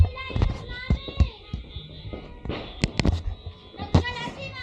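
Firecrackers and fireworks set off outdoors on New Year's Eve, with a string of sharp, loud nearby bangs at irregular intervals and people talking in between.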